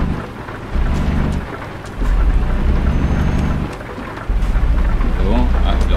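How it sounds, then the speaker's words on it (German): Rain and thunder in the truck-driving game Euro Truck Simulator 2, a steady loud wash of rainfall with deep rumbling surges that swell in waves, under the low hum of the truck. "Regen."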